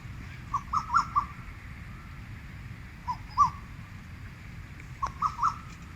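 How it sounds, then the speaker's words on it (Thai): Bird and crow calls ring out in short bursts of two or three notes, separated by pauses, over a quiet outdoor background on a golf course. "เสียงนกเสียงกา"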